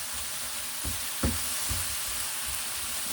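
Pork browning in a pan in a steady, close hiss of frying fat, broken by a few soft knocks of a utensil against the pan.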